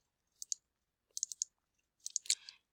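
Calculator buttons pressed to enter numbers into a statistics list: small crisp clicks in three short bursts of two to five presses each, close and quiet, with no talking.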